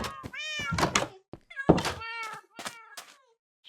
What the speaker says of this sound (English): We've got an unnamed cat out here.